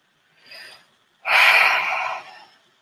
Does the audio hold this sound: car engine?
no